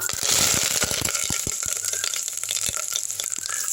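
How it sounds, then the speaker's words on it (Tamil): Mustard seeds and curry leaves hit hot sesame oil in a pressure cooker, setting off a burst of crackling pops and sizzling that thins out into scattered snaps, with no talk over it. "எண்ணெய் காஞ்சிருச்சு. கடுகு போட்டுக்கலாம். கருவேப்பிலை போட்டுக்கலாம்."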